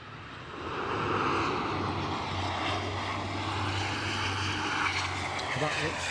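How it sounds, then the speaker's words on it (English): An ATR 42 turboprop airliner at Aberdeen airport drones steadily nearby, its low propeller hum and broadband engine roar holding loud and constant throughout, with a voice talking faintly underneath. "That looks very much like an ATR 42"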